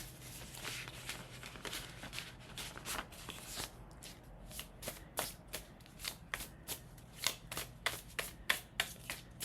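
Tarot cards are shuffled by hand in a quiet room, with a rapid run of soft riffling flicks at first, then separate crisp card slaps that come more slowly and clearly.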